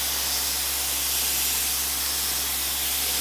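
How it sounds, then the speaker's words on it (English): An HVLP spray gun spraying paint onto a pallet wood shed, giving a loud, steady, broadband hiss with no breaks. "I'm gonna try to paint it using a HVLP gun"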